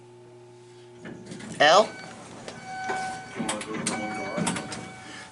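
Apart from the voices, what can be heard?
Westinghouse/Schindler high-speed freight elevator operating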